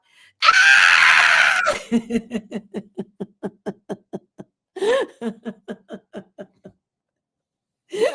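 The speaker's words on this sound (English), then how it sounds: "All you hear is the blood curdling scream." A single loud, blood-curdling scream used as a knock, lasting about a second, followed by a quick run of rhythmic laughing bursts and a brief final cry.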